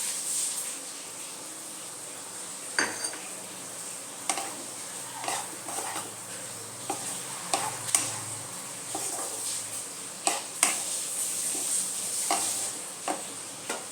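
Crushed garlic goes into a pan of okra and fish roe, giving a soft ongoing sizzle with scattered light taps and scrapes of a utensil stirring, fairly quiet and close, without speech.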